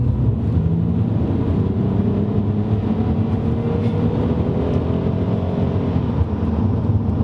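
A Lexus SC300 accelerating, its engine making a steady, loud low drone with broad road and wind rush throughout, no one speaking.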